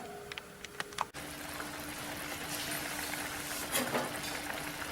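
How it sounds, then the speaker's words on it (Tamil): A thick tamarind and onion curry bubbles and simmers steadily in a pan, with faint clinks at the start, no one speaking. "ஒரு 8 நிமிஷமாவது நல்லா கொதிக்கட்டும்."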